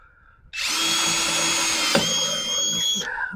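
A handheld power drill bores through aluminum in a scrap-budget RV storage build, a loud, close, high-pitched whine lasting about two and a half seconds, with a brief strain midway before the drill winds down.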